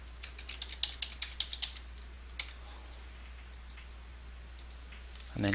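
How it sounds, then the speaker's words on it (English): Computer keyboard typing at a desk, a quick run of light key clicks that thins out into a few scattered taps over a faint steady hum, then a brief bump at the very end. "Type in all of your details."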